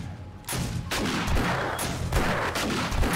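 Shotgun turret in the 7 Days to Die video game firing a rapid string of loud, close blasts, about half a dozen sharp booming reports in quick succession with short gaps, no talk over them.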